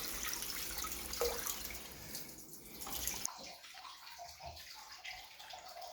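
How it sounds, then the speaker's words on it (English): Water draining out of a Moen shower hose, a steady close hiss and gurgle of running liquid with a few drips, shifting to a softer, sputtering trickle partway through. "So all the air and the water come out of this hose."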